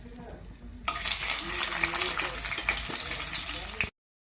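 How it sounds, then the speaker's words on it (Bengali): Boiled potatoes going into hot oil in a pan, a sudden loud sizzle and crackle that starts abruptly and keeps up steadily with some stirring, then cuts off. "সিদ্ধ আলু এগুলো এবার ভাজা হবে একটু।"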